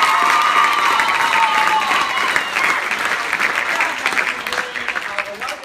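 Clapping and some cheering from an audience at a school stage show, dense and sustained at first and then thinning out toward the end, with scattered shouts mixed in.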